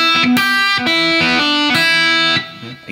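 Distorted electric guitar playing a riff, a short swung phrase of bright saturated notes with open strings and a hammer-on, loud and close, ending with a fading sustain.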